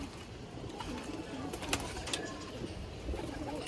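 Pigeons cooing as racing pigeons are released, soft low coos and a few chirps over a busy outdoor background, moderately distant, with no clear talking.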